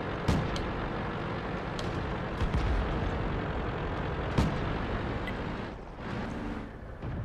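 Distant artillery fire booms in the tank battle game World of Tanks, a few scattered heavy thumps over a constant engine-like rumble, moderately loud.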